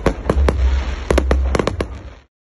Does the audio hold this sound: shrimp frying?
no